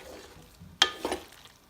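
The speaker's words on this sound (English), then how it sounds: "we're just gonna mix it around. Just incorporate all of that spinach with your pasta." A utensil scrapes and stirs pasta with spinach in a hot pan, giving one sharp clatter and then a short sizzling swish, close and fairly quiet.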